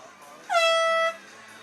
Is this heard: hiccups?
no